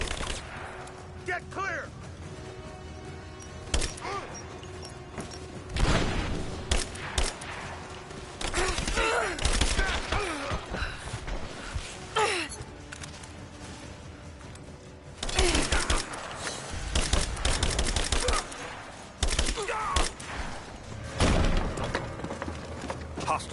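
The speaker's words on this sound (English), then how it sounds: "Laying down covering fire!" Bursts of covering gunfire from soldiers in Rise of the Tomb Raider crackle repeatedly through a tense firefight, with rapid volleys and sharp single shots, while voices shout orders over the shooting.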